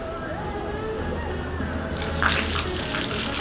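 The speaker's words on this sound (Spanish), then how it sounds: "Vamos a llenar la pileta y mañana nos vamos a embutir." Water running from a hose or tap to fill a backyard swimming pool, a soft steady rush with faint splashing that grows a little stronger toward the end, with distant voices in the background.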